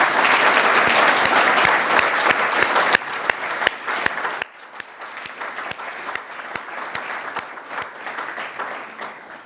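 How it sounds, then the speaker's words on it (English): A large audience claps loudly and continuously, a dense wash of applause that drops to a lighter, thinner patter partway through and keeps going. "So can we give a really large round of applause for Gary?"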